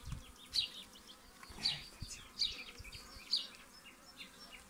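Honeybees inside a hive buzz in a low, steady drone with brief louder passes close by, faint overall and with no talking during it.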